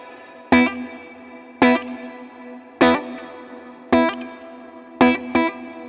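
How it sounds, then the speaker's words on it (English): Electric guitar through a CKK Electronics Infinite Reverb pedal set to a long pre-delay, five evenly spaced plucked chords, each followed by a gap before a swelling reverb wash, played clean and close with no talk. "you can kind of hear the guitar signal and then when the reverb cuts in"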